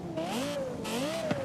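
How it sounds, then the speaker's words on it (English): A Yamaha-co-developed V10 engine in Forza Horizon 5 sings alone with a smooth, rising and falling high-pitched wail, close and steady, and a brief shift blip near the end. "Oh, dude, this V10 sounds so good."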